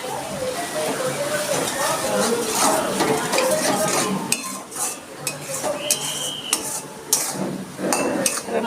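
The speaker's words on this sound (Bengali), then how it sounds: "এবার মশলাটা আমি আস্তে আস্তে করে একটু ভালো করে কষিয়ে নিচ্ছি" Spice paste of Kashmiri chili powder, turmeric, salt and a little water stirred and sautéed in a pan, a steady close sizzle with scraping and sharp clinks of a spatula growing more frequent.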